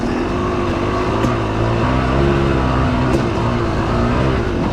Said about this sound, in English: I just leave it in first, like I get at least some engine braking